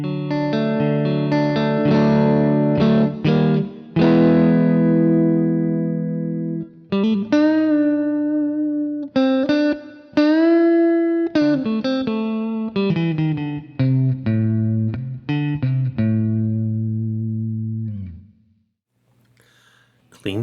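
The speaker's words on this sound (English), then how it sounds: "More clean tones, neck and middle." Clean electric guitar tone through the combined neck and middle pickups of a modded beginner guitar, with chords and melodic single-note phrases played up close, sustained and ringing, then decaying into a brief quiet tail.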